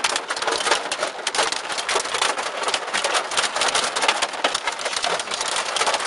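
Pea-size hail pelting a car windshield during a severe thunderstorm, a dense, continuous clatter of hard ice striking glass at close range, loud and unbroken throughout.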